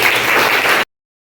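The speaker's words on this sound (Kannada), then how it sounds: "ನಮ್ಮ ಶಾಲೆಗೆ ಒಂದು ಜೋರಾದ ಚಪ್ಪಾಳೆ ಮಾಡಿ" Loud applause from an audience at a school program, a dense burst of clapping lasting under a second before cutting off abruptly into silence.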